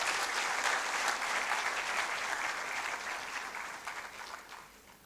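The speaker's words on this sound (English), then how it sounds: "I thought we would give WACBIB a round of applause." Sustained audience applause at a 10th-anniversary research conference opening ceremony, steady at first and then slowly thinning out, with no talking over it.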